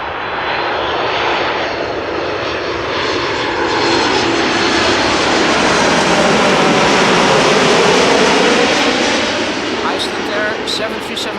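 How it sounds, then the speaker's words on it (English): Icelandair Boeing 737 MAX 8 jet arriving from Reykjavik at Amsterdam Schiphol, passing up close with a loud, sustained broadband engine roar that swells and fades slightly, alone without talk. "Iceland 737 MAX 8 arriving from Reykjavik"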